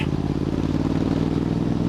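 Voge 625DSX motorcycle fitted with a Scorpion exhaust, ridden steadily in third gear at about 25 mph, giving a continuous low, throbbing exhaust drone with a faint clatter, close and even throughout.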